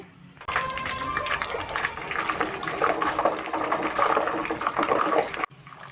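A loud, continuous crackling sizzle of water sprinkled into hot homemade cow's-milk ghee, starting abruptly and cutting off after a few seconds.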